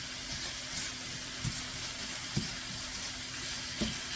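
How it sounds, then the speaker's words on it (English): Ground meat with Italian seasoning sizzles and browns steadily in a pan, a soft continuous fry broken by a few light scrapes and taps as it is chopped up, with no talking. "Get this all browned up, chopped up."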